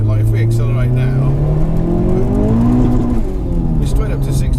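A 530bhp front-wheel-drive Volkswagen Golf GTI VRS accelerates hard, its loud engine note climbing steadily through the revs with a brief dip as it shifts before pulling again; people talk over it from inside the car.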